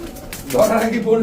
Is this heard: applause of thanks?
no